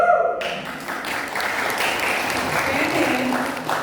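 Audience applause fills a room, a steady wash of clapping that starts abruptly and holds at an even level throughout.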